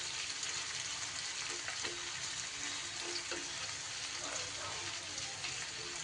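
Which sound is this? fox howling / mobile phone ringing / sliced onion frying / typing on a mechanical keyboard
sliced onion frying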